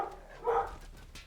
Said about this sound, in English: Sorry about the dog noise if you can hear that.